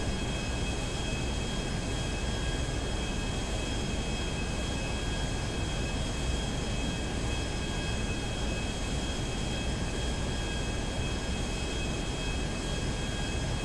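A steady, unbroken airplane engine drone in the video game GTA V stays loud and even from start to finish, with a constant roar and high whining tones and no talking.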